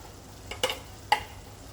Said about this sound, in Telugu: ఇవన్నీ వేసుకుని మనం ఫ్రై చేసుకున్నాము.